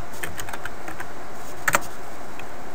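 Several quick keystrokes on a computer keyboard while entering router configuration commands, light clicks with a pair of sharper taps near the end, no voice.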